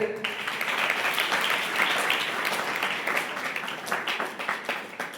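An audience at a church harvest offering gathering breaks into steady, loud applause, a dense wash of clapping that fills the room for several seconds with faint voices underneath.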